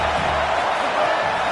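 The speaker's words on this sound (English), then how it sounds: "Now this home crowd making life difficult." Home crowd noise at a football game, a dense, loud, steady roar of many voices filling the stadium without a break.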